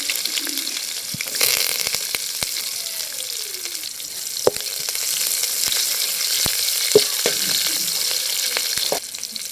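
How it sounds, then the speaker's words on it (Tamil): Onions and curry leaves fry in oil after mustard seeds have popped, a loud, close, steady sizzle with a few sharp clicks and scrapes of stirring. "கடுகு பொரிஞ்சிருச்சு, கருவேப்பிலை போட்டுக்கலாம். வெங்காயம் போட்டுக்கலாம்."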